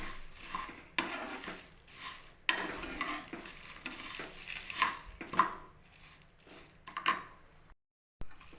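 Spices and garlic cloves dry-frying in a pan for sambar powder, stirred constantly: a run of close scraping strokes over a soft crackling sizzle, with brief pauses and a short gap near the end.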